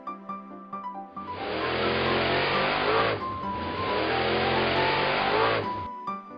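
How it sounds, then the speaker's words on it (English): A monster racing car engine revs hard and steadily in two long roaring passes, loud and near, after a short musical lead-in, with faint tire squeal. "Monster racing car."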